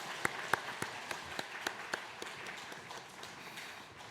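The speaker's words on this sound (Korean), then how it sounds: "우리 아이들에게 큰 박수 다시 한번 부탁합니다." A church congregation at an early-morning prayer service claps for the children: a sparse, quiet handful of distinct claps in a loose rhythm that thins and fades out.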